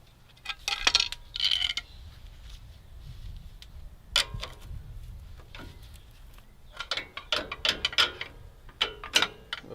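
Scraping and clicking of a brake pad being pried from the front caliper of a 2014 Ram 3500 HD, a string of sharp metallic scrapes and ticks in irregular bursts, close and fairly quiet with no talk.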